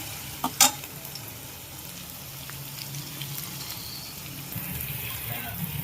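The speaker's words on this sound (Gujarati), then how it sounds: "ટમેટાને હજી બે મિનિટ પાકવા દઈએ" Tomatoes cook in oil for Mumbai-style pav bhaji, a soft steady sizzle in the pan with a couple of sharp clicks near the start.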